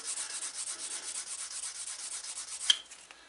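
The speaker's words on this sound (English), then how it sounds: "I love using the dye burnishing method" Leather edge rubbed with the dye burnishing method, a steady run of soft, quick back-and-forth rubbing strokes close up, ending in a sharper squeak and a couple of light taps.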